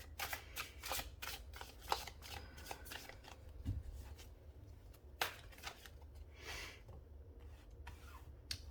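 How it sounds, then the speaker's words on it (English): Tarot cards are shuffled and pulled by hand close up, giving repeated soft riffling and sliding bursts with occasional sharper snaps of cards being set down, fairly quiet throughout. "Let's go ahead and pull some cards for how we got here."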